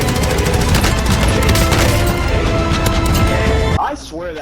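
Loud, dense video game gunfire, a shotgun blasting amid chaotic shooting and crashes that continues steadily before cutting off abruptly near the end, with faint talk mixed underneath.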